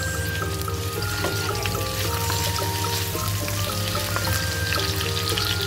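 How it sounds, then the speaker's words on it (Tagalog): Potatoes frying in oil in a covered pan for a home-cooked beef curry, a steady dense sizzle and crackle running loud and continuous throughout with no talking. "At ating ituloy ang ating pagpiprito ng ating patatas."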